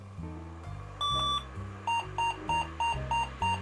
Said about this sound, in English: It is a very loud and defined PC speaker, I like it.